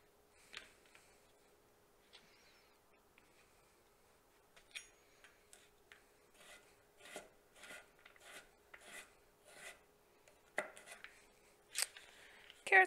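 A knife chops carrots into small pieces on a cutting board, quiet and close, with sparse cuts at first, then a steadier run of crisp rhythmic strikes that grows louder toward the end.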